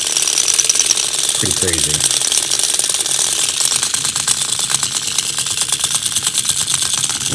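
The battery-powered pile-driving mechanism of an Ocular Max Remix toy runs with a loud, steady, fast mechanical rattle and clatter of gears, close up and continuous throughout. Someone speaks briefly over it.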